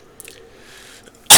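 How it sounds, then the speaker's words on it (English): A single sharp cough bursts out near the end, close and loud, after a stretch of quiet room noise. "I'm sorry about the cough"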